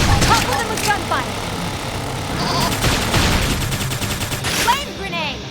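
Gunfire during combat in the video game Xenoblade Chronicles X, rapid bursts of shots layered over game effects and music, with voices speaking over the battle.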